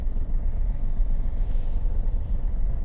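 Car engine labouring up a slope gives a continuous low rumble, loud and close, steady throughout with no voices.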